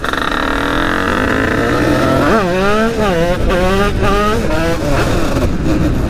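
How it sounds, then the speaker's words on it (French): An MRT 2Win motorcycle engine with a broken key runs steadily and loudly, vibrating, with a continuous rough drone that rises and falls slightly in pitch through the middle as the revs shift. "Alors vous voyez aussi que la moto vibre un petit peu."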